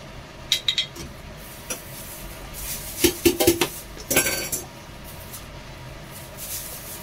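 A spoon stirs a pot of sour maki soup, giving sparse, quiet metallic clinks and scrapes against the pot in small clusters over a low kitchen background.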